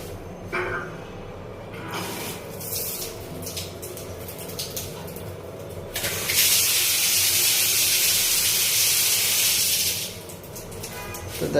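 Water gushes from a newly fitted mixer tap in a bathroom, a loud steady hiss that starts partway through, runs for several seconds, then cuts off.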